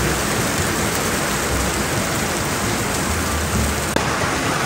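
Heavy rain pours steadily and loudly, a dense unbroken roar of drops hitting surfaces with no gaps.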